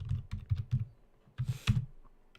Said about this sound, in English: Waterson, I don't know why I'm typing Waterson.